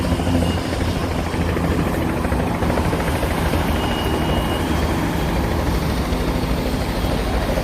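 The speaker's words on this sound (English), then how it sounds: "there's another helicopter in the sky" A helicopter flying overhead above Hudson River Park in Manhattan makes a steady rotor drone that fills the air, loud and continuous, with a deep low rumble and no talking.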